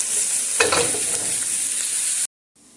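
Chicken and vegetables frying in a pan for chicken soup, a steady bright sizzle with a brief stir partway through, then cutting off abruptly into near silence.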